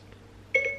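Siri activation chime: a short, bright electronic chime of two quick tones sounds near the end, close and clear after a near-silent stretch.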